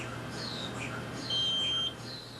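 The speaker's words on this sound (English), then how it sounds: "she's asked to activate a warning beeper to indicate when she's switched" An electronic warning beeper pressed by a patient during a brain scan test gives a short steady tone over a constant machine hum, with faint chirpy tones around it.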